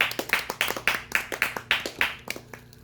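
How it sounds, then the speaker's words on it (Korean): A church congregation at a Korean Presbyterian service in Arizona claps in unison, a steady run of sharp, moderately near hand claps that slows and fades toward the end, with a faint hum beneath. "하나님께 영광의 박수."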